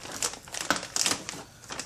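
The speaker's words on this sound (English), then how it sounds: "opening up this packaging, the new A-arms" Plastic packaging holding new RC car A-arms for a Traxxas T-Maxx or E-Maxx is handled and opened up close, giving a quiet run of crinkles and sharp crackling taps.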